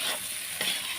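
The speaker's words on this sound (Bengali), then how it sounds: "খুব সুন্দরভাবে উচ্ছে এবং আলুগুলো ভাজা ভাজা হয়ে গিয়েছে" Sliced bitter gourd and potatoes fry in hot oil with a soft, continuous sizzle and a brief stirring scrape partway through, heard close and alone.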